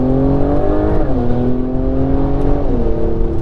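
A 2021 Porsche 911 Turbo S with a Stage 2 tune, high-flow cats, heat-wrapped exhaust and high-flow muffler revs up steadily, its engine pitch climbing, dipping at a shift, then climbing again, loud and close throughout.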